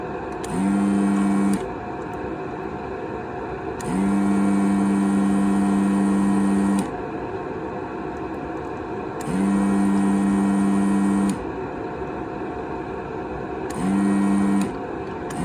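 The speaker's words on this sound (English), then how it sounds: "my soldering, or my desoldering vacuum is kind of acting up here" A desoldering vacuum pump that is acting up runs in repeated bursts of one to three seconds, a steady mechanical hum that starts and stops about four times with quieter gaps between.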